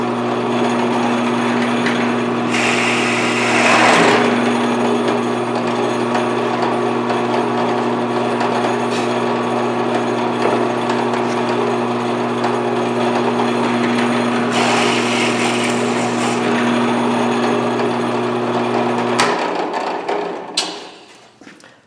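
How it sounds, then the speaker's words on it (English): A power drill whines steadily for about twenty seconds while drilling a hole in a Les Paul guitar build, its pitch shifting as it bites into material, with short louder grinding bursts before it spins down. "First, I'm going to drill a hole."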